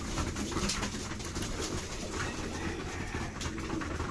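Racing pigeons coo steadily at a loft during feeding time before derby training, a dense, continuous murmur of many birds close by with no talking.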